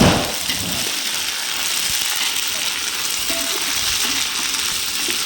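Ginger garlic paste, 100 grams, frying in hot oil for a mutton biryani, giving a steady, close, loud broadband sizzle that holds through the whole stretch, with faint stirring clatter and possible background voices.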